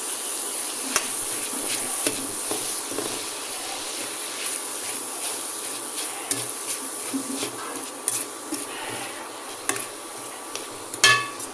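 A spatula stirs thoran with ground coconut paste in a pan, making scattered light scrapes and taps against the metal over a steady, faint sizzling hiss.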